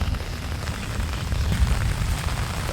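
Steady rain pours onto a muddy, flooded village road in a dense, unbroken rush of noise that stays even and fairly loud throughout, with no voices.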